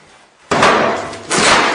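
A firefighter forcing in a door with a baseball-swing method makes two loud heavy slams in quick succession, each a sharp close impact with a lingering rattle.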